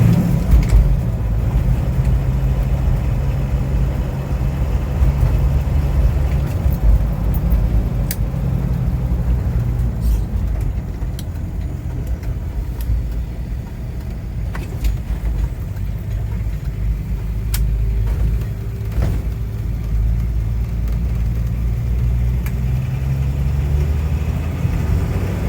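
A 1980 International Scout II Traveler with a turbo diesel and four-speed manual drives along, its steady, loud engine drone and rumble continuous throughout with no talking.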